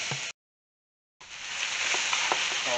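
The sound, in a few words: mandu filling cooking down in a pan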